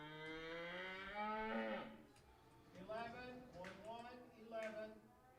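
An old cow at a livestock auction in a cattle market stockyard gives long, loud moos close by, one drawn-out call followed by several shorter ones, with an auctioneer's chant running underneath.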